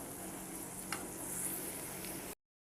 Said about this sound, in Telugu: ఇప్పుడు మూత అనేది పెట్టేసుకొని మధ్య మధ్యలో కలబెట్టుకుంటూ బీన్స్కాయ అనేది ఉడికించుకుందాం